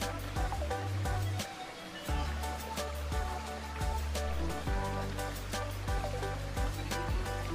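River water at Kali Kembangan rushes over small, gentle rapids, giving a steady loud wash of flowing water with a dense, continuous churn and faint irregular knocks throughout.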